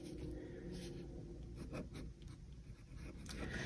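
Pen scratching on paper while an entry is handwritten into a reading journal, soft close strokes in short bursts, quiet and without talk.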